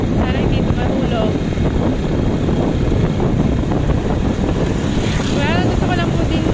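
Heavy wind buffeting roars continuously across a phone microphone mounted in a holder on a moving motorcycle, loud and unbroken, with faint engine tones underneath.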